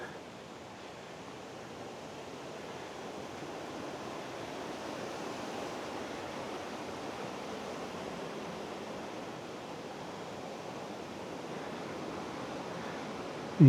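Water pours steadily over Linton Falls, a waterfall running lower than usual, giving a constant, even rushing hiss that holds at moderate loudness throughout with no talk.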